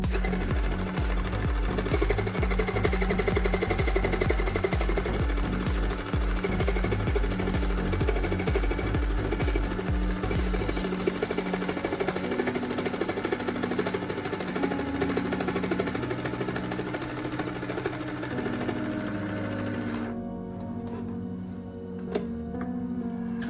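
A Cool Maker Sew 'n' Style toy sewing machine stitching fabric with a fast, rattling, motorized whir that runs steadily for about twenty seconds before stopping abruptly.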